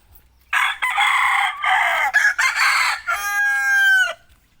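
A rooster crows loudly and close, a long strained call after bursts of clucking and squawking from nearby seven-month-old chickens.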